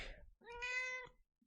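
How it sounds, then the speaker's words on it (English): A Siamese cat gives a single clear, close meow of about half a second, heard alone in a quiet room. "I don't know if you just heard my cat meowing at me."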